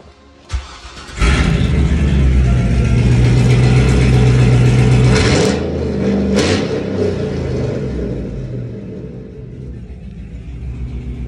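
A 2007 Chevrolet Silverado's engine cranks, starts and revs loudly through a stock single exhaust, with a few sharp throttle blips before settling into a rumbling idle.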